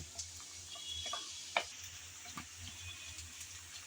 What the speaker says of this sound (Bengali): রসুন পেঁয়াজ হালকা ব্রাউন করে বেজে নিলাম